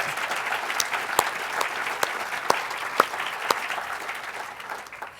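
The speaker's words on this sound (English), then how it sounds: "Let's give them a round of applause also." An audience at an academic award presentation for presidential leadership applauds steadily, a moderate, even patter of many hands in a hall, broken by a few sharper individual claps.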